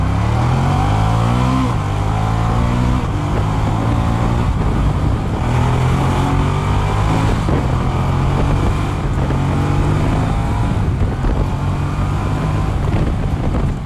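Ducati Diavel motorcycle with the throttle opened hard, loud revving engine rising through repeated climbs in pitch under steady wind noise, close and continuous, no speech.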